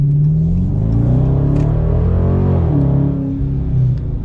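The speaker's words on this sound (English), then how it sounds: "hit the throttle and you get that exhaust immediately, which is really nice" A 2019 Dodge Charger R/T Plus V8 with its active exhaust deleted via an AES simulator kit, revving hard on the throttle: a loud, steady rumble whose pitch climbs and falls through the revs, with no talking.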